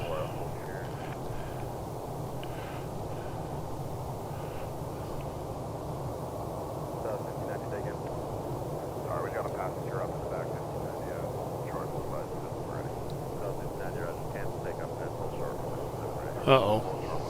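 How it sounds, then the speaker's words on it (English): A Southwest airliner sits on runway 17 right at Reno airport at sunrise, giving off a steady, distant jet engine roar with a low rumble. Faint voices come and go beneath it. "Southwest 1590, Reno Tower, wind 190 at 3, runway 17 right, clear for takeoff."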